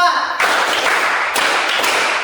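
Group hand clapping in an Indonesian classroom-style clap game: dense, loud clapping begins sharply after a quiet start, with two fresh bursts of claps later in the stretch.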